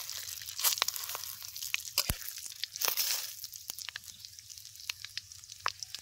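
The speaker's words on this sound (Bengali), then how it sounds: "এবার আমরা চিকেনের জন্য ফোড়ন দিয়ে দেবো। গোটা জিরে দেবো অল্প, শুকনো লঙ্কা দেবো, গোটা গরম মশলা দেবো, আর তেজপাতা দিয়ে দেবো।" Whole cumin, dried red chili, whole garam masala and bay leaf crackle in hot oil as a chicken tempering begins, soft sizzling with sharp pops and crinkly spits scattered throughout, close and moderately quiet.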